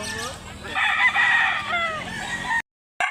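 A rooster crows loudly and close at a chicken market in Mantalungon, Barili, Cebu, one long drawn-out call with clucking and busy market voices around it before it cuts off.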